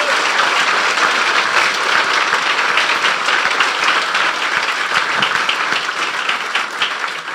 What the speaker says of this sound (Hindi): बजा दें यीशु के लिए जोरदार तालियां।